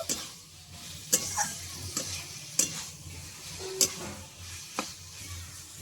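Cooked ripe cucumber being stirred with sugar in a pan, a soft continuous sizzle broken by a few sharp scrapes and clinks of the spoon against the pan, close and fairly quiet, no talking.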